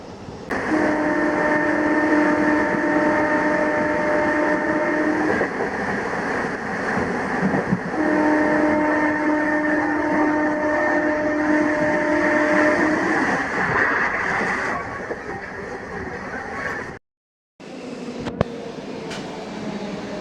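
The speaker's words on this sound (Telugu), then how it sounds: "కొండవీడు ఎక్స్ప్రెస్ మచిలీపట్నం నుంచి యశ్వంతపూర్ వెళ్తుంది." The Kondaveedu Express from Machilipatnam to Yesvantpur runs past, a loud continuous rail roar with steady tonal hums and clatter that cuts out briefly near the end before resuming.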